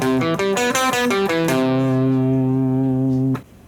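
An electric guitar plays a hook, a quick run of repeated plucked notes with an effects-heavy, synth-like tone, ending on a long sustained chord that cuts off abruptly.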